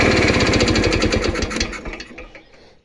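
Small PF 62 walking tractor engine running loud and close with a rapid, even put-put firing rhythm, then winding down and fading out as it is shut off.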